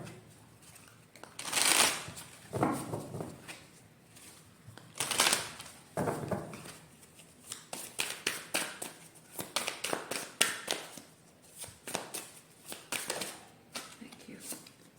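Tarot cards riffled and shuffled in repeated bursts, crisp papery flutters and taps close by, with quieter pauses between shuffles and card draws.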